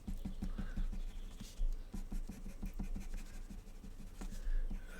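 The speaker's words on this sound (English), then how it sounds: "we're going to sketch outwards, little sort of sunbursts." A pencil sketches short outward sunburst strokes on paper, a quick rhythmic scratching of brief repeated marks close up, with faint background noise throughout.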